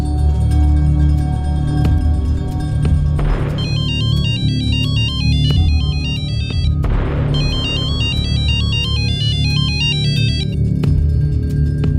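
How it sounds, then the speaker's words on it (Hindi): A phone rings out after a call is placed, giving two loud bursts of a repeating electronic ringtone melody over a steady background hum. "रिंग जा रही है"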